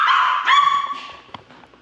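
Dog giving a loud, close bark that opens with a sustained whining yelp, followed by softer yips and small scuffling noises, no speech.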